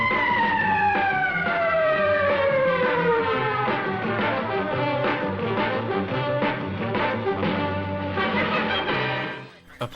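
A police car siren wails loudly and continuously, its rising and falling tone sweeping over several seconds before cutting off abruptly at the end.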